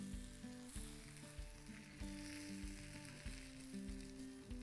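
An omelet sizzles steadily in a hot pan, a close, continuous frying hiss with music playing in the background.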